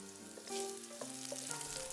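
Ginger slices and chopped garlic fry in vegetable oil in a pan, a steady close sizzle running throughout the two seconds with no voices.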